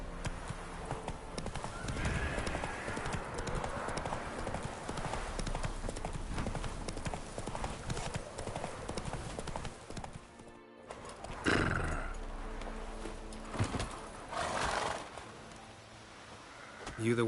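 Hooves of the horse Roach clip-clop steadily in The Witcher 3 on PS5, with neighs and whinnies breaking through, a brief dropout near the middle, and voices and game sounds mixed in underneath.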